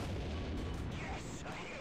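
Tank cannon rounds striking an IS-6 heavy tank in War Thunder, with a Tortoise firing on it: a dense, heavy booming rumble that persists through the short moment, loud and close, with some voice activity mixed in.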